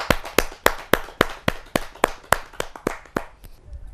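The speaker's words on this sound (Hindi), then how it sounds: "जोरदार ताली के साथ हम उनका स्वागत करें।" Sharp, evenly spaced claps from an audience at a Hindi kavi sammelan poetry gathering welcoming a poet, a dozen or so distinct hand claps in a steady rhythm, fairly close and clear, fading out toward the end.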